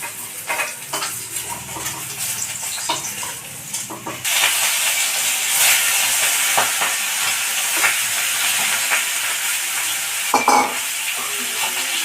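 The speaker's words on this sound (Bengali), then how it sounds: "বাকি মাছটা এভাবে ভেজে নেব" Rohu fish pieces frying in oil in a pan give a steady, close sizzle that jumps louder about a third of the way in, with scattered pops and light utensil knocks and no voices.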